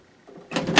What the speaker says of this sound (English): the door finally closes all the way.